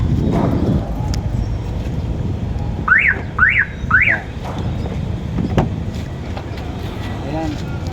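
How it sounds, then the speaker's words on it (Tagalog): A loud boosted car horn blasts three short, sharp honks in quick succession over a running engine and background noise. "naka-boost busina, naka-boost horn"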